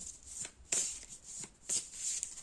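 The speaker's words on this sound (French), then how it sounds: "je vais juste vous prendre une petite carte avec le message de ton âme" Playing cards being shuffled before one is drawn for a reading, heard as a few quick crisp riffling bursts close by with short quiet gaps between them.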